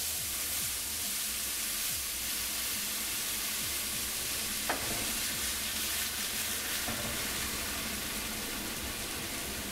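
Red wine poured into a hot pan of pork sizzles loudly and steadily, a dense frying hiss that holds for several seconds with light stirring scrapes and no voices.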